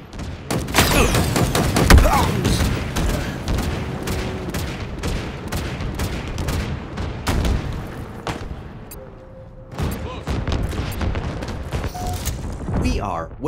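Halo Infinite commando rifle gunfire on the Behemoth map, rapid loud bursts of shots in quick rhythm, mixed with explosions and game noise throughout.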